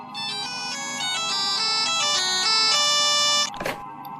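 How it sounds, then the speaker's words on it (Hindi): A mobile phone rings in a Hindi audio drama, playing a loud melodic ringtone steadily for several seconds before it cuts off with a brief rustle. "अचानक अशोक का फोन बज उठता है।"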